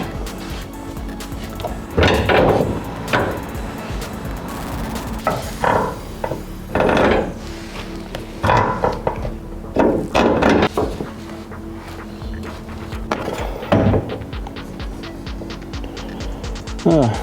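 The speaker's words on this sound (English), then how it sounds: "So now it's time to feed the bumper back on." Bumper being fed back onto a BA/BF Ford Falcon ute during an XR body kit fit, heard as a series of sharp plastic knocks, clunks and scraping thuds in irregular bursts, close by, with no talking.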